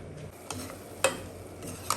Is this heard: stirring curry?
yes